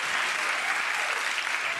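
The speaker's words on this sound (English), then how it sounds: "I love that we work at a television show where bourbon gets applause" Brief burst of studio audience applause on a television cooking show, dense even clapping at moderate level lasting under two seconds with no talk over it.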